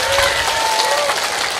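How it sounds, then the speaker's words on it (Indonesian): An audience applauds at an Islamic religious gathering with rebana performance, a short dense burst of clapping from a crowd, loud and close, with a voice heard over it. "Tepuk tangan dulu dong."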